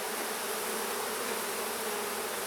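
Honeybees buzz in a dense, agitated swarm after a hive lid falls, a steady close hum filling the moment with no voices.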